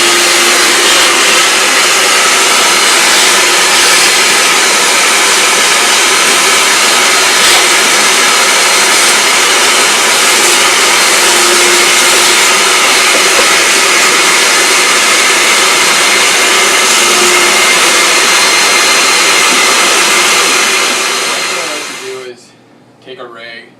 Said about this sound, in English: just turn on your shop vac